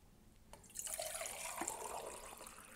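Water splashes and gurgles as it is poured steadily into a tea kettle, close by and fairly quiet, with no talking.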